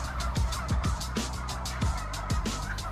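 Breeder turkeys gobble repeatedly in quick, rattling bursts, several birds close by calling over one another against a busy barn background.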